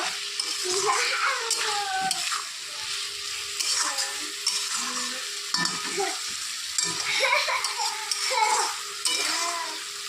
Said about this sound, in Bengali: ভালো করে সব কিছু কষিয়ে নিতে হবে